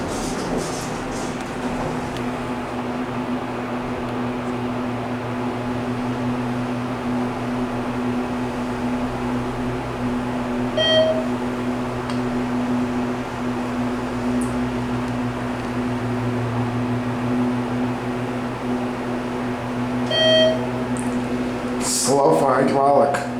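A ThyssenKrupp hydraulic elevator runs in a city parking garage in Bradenton, FL, with a steady low motor hum and drone throughout, a couple of faint chime beeps, and a voice talking occasionally.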